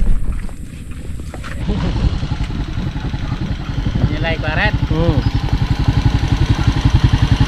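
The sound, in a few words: motor engine running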